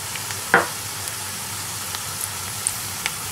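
Masala with salt, red chillies, garam masala powder and food colour frying in a pan for chicken biryani, a soft steady sizzle with a single sharp clack of a spoon being stirred through it.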